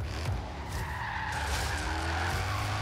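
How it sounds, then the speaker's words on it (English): A car in the racing game Forza Horizon 3 slides around a corner, with continuous tire squeal and skidding over a steady engine roar that stays loud throughout. "I always slide around the corner."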